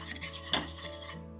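A utensil scrapes and stirs cumin, turmeric and salt around a pan, with soft rubbing strokes and one brief metallic clink against the pan.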